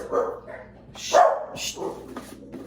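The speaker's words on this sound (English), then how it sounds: "Sorry about my dogs." Several dog barks ring out at intervals, moderately close, mixed with a person's speech in the background.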